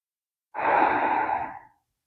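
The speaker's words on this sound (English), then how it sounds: "We'll be taking a few breaths on this first one." One slow, soft breath during yoga tree pose practice, a single airy exhale lasting about a second, heard alone in quiet surroundings.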